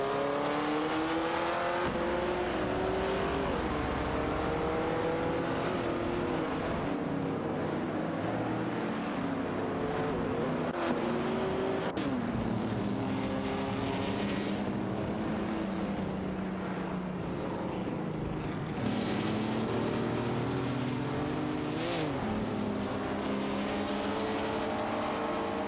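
Racing cars roar continuously for the whole stretch, engine pitch climbing and falling through gear changes as cars pass, loud and unbroken with no talk.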